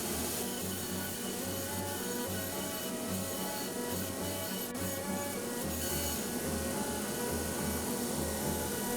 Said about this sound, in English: The initial shaping can happen on the belt sander, where I just eyeball the dimensions.